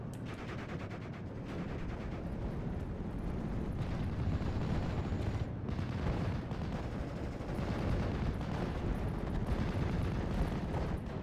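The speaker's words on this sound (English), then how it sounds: "You got the mortar start laying into this pack upon retreat." Dense, rumbling battle noise from a WWII strategy video game, mortar fire and gunfire blending into a continuous low roar with scattered bursts throughout, fairly quiet and with no talk over it.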